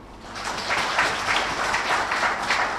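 An audience claps steadily for about three seconds at a public event for expatriate workers, a dense, even roar of many hands that swells slightly after the start.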